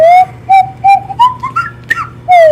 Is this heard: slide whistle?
yes